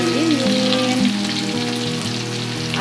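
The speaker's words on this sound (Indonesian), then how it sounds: "Kita goreng sedikitnya, lainnya kita bisa simpan di lemari pendingin." Tempeh bacem, the sweet Indonesian braised tempeh, frying in hot oil in a pan gives a loud, steady sizzle throughout, close up, with a faint tonal hum beneath and no talking.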